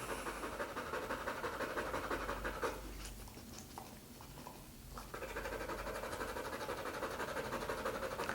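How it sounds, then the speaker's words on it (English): A stressed dog pants heavily and continuously close by, the fast rhythmic breaths steady across most of the stretch and briefly easing in the middle before resuming. "This heavy panting is just stress."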